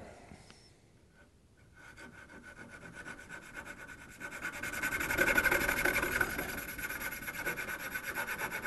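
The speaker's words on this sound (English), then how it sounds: "But I'm going to use a coping saw for this because it's really quick." A coping saw cutting out the waste wood of a butterfly key joint in a mitered corner, a faint rhythmic rasping of rapid back-and-forth strokes that grows steadier and a little louder, close by.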